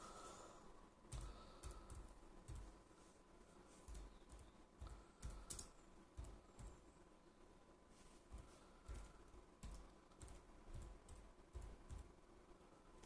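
Fingers type on a computer keyboard in rapid, uneven bursts of clicks and key taps, close and quiet against a faint background hum, with no one talking.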